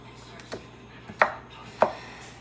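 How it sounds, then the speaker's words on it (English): A knife chopping bacon on a cutting board gives three distinct chops at uneven intervals, the last two sharper and louder, over a quiet kitchen background. "what I'm doing now is chopping half of the bacon"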